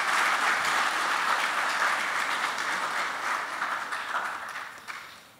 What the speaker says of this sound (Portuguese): Un fuerte aplauso para nuestros conferenciantes.